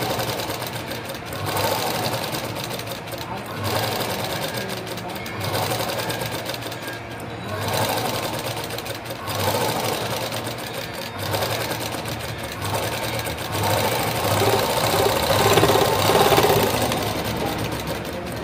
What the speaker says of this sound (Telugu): పెద్ద కుట్టు పెట్టేసి మిడిల్లో మడతెట్టి కుట్టేయండి.